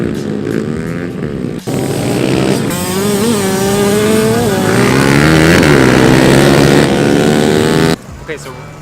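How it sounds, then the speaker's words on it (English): Small pit bike motorcycles race around a dirt track, their high buzzing engines rising and falling in pitch as they rev through turns, loud and continuous between abrupt cuts, with crowd noise underneath. "So they're gonna be racing these little motorcycles around."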